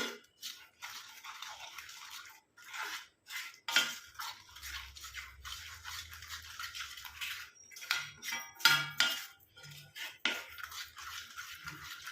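A thick homemade hair dye mixture is stirred in a bowl with a utensil, producing quiet, irregular scraping and soft wet clicks in short strokes close to the microphone.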